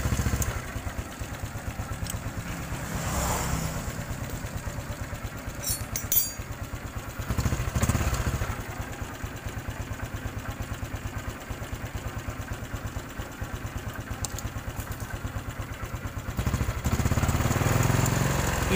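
Engine of a Honda Supra X 125 fuel-injected motorcycle runs steadily at close range with a rough, clattery idle, then is revved hard near the end, loud and without talk.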